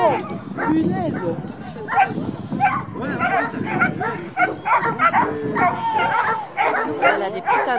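A dog barks and yips repeatedly in short bursts, with some whimpering, while people talk over it.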